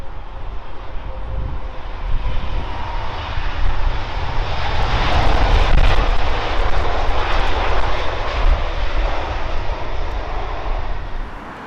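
A British Airways Airbus A350 jet arriving at London Heathrow from Austin, Texas, sends out a loud, sustained engine roar with deep rumble that swells toward the middle and holds steady as it passes nearby.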